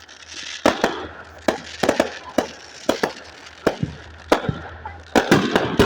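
Fireworks pop down by the bottom of a bridge, a rapid irregular series of sharp, loud bangs and crackles spread across several seconds, fairly close and standing alone without talk.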